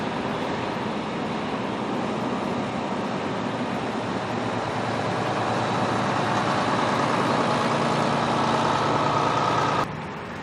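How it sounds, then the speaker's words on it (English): Leyland National bus with a Leyland 510 engine idling close by, a steady, even diesel rumble and rattle that holds unchanged throughout and cuts off abruptly near the end. "The Leyland 510 engine was known by many in the trade as the Headless Wonder due to its fixed cylinder head configuration."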